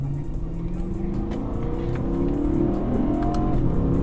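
A stock BMW M3 engine revs hard as the car accelerates, its steady roar climbing in pitch through quick gear shifts, heard close and loud from inside the car.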